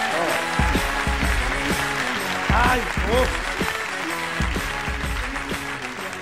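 A studio audience claps loudly and steadily for a comedian on a Spanish comedy show, with a sustained wash of applause and a host's voice briefly exclaiming over it.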